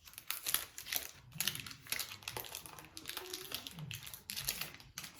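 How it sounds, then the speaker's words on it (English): Crisp plastic wrapping crinkles and rustles as a Disney villains blind-bag toy is pulled out, a steady run of close, busy crackles and crunches lasting the whole stretch with no voices. "Let me get it out the plastic for you."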